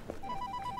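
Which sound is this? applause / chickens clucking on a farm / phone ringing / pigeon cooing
phone ringing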